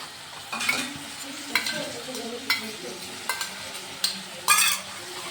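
A spoon stirs peas, carrots, onion and tomato in a hot pan for homemade Maggi noodles: about six rhythmic scraping strokes, close up, over a soft, continuous sizzle.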